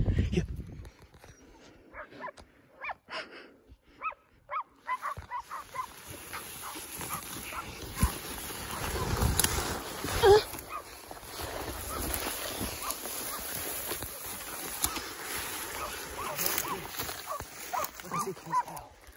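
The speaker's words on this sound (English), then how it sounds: "Dogs are still bailing down here." Hunting dogs bark and yip at a pig bail, some near and some farther off, in irregular bursts. People talk and call out over them, and rustling movement runs through the whole stretch.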